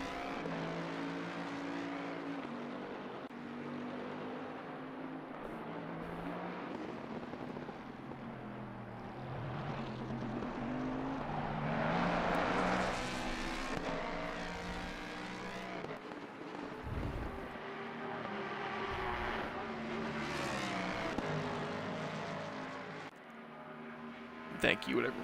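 A GT3 race car in a British GT3 round at Barcelona, on its single flying qualifying lap. The engine pulls hard and loud throughout, pitch climbing and dropping with each gear change and braking zone, while a voice speaks over it.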